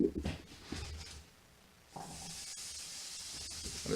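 Half an onion drops into hot sunflower oil in a pan and starts to sizzle, a steady broadband hiss that swells after a brief lull and holds on, close and fairly quiet.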